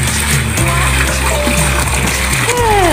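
Water splashes and pours continuously nearby, with a voice briefly heard over the splashing.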